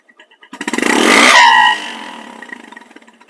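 A Bajaj Discover 135cc motorcycle engine revving hard, starting from a few idle putts into a loud, close roar that peaks, then drops back to a pulsing idle that fades away.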